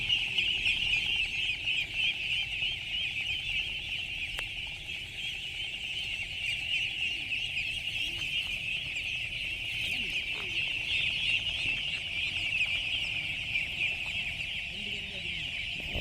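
A dense chorus of ducks at a duck farm quacks continuously, a large flock close by forming a steady bustling din.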